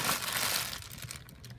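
A plastic bag crinkles and rustles while a collector-edition model horse is being unboxed, a close, dense crackle that thins out toward the end.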